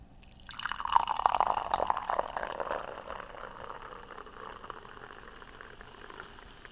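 A fizzy OMB drink is poured close to the mic above a computer keyboard, giving a hissing, bubbling crackle that swells early and then settles into a softer, steady fizz with no voices.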